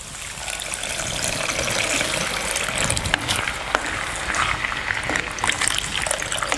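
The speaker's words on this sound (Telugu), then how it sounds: "అయితే ఈ నీళ్లు పోస్తాం ఇలా నీళ్ళని." Fresh water poured from a clay pot into a pan of fried moong dal being cooked, a steady close splashing pour that runs unbroken for several seconds with no talk.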